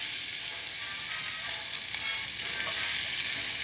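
Garlic frying in hot cooking oil, a dense, steady hiss and crackle that stays close and even throughout, with no voices.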